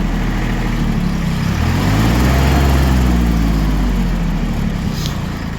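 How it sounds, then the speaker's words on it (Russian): An Iseki TK25 small Japanese tractor engine drones steadily and evenly at close range, its low rumble holding constant throughout. "Тракторок работает весьма ровно, без проблем вообще."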